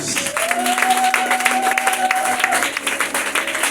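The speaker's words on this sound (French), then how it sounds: "toute la famille, acclame encore pour lui" Congregation applauding and cheering during a church service, a few seconds of steady clapping with cheers, mixed under a voice talking.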